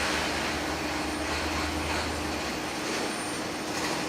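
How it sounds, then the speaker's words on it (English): A light aircraft comes in to land at Nagasaki Airport, heard as a steady broad engine roar with a low hum, sustained and fairly distant against constant airport background noise. "We've got a light aircraft coming in."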